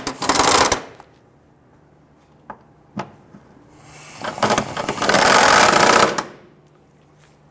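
Bolts on a fuel tank strap of a 2006-2012 Toyota RAV4 3.5L V6 being snugged down with a ratchet or power tool, two loud bursts of buzzing, whirring tightening separated by a few faint clicks, close by with no talk.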